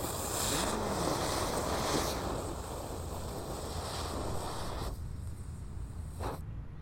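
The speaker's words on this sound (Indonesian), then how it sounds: "Lanjut kita nyalakan gangsing super 3 warna" A lit three-colour spinning firework, a gangsing, hisses and sputters in a steady, loud, broadband roar for several seconds outdoors. It thins toward the end and cuts off abruptly, with no voices.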